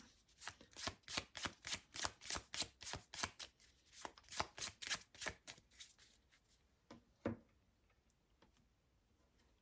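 A deck of tarot cards is shuffled by hand in quick, crisp riffles and taps, a close, quiet run of rhythmic snaps that slows and thins out to near silence after about seven seconds.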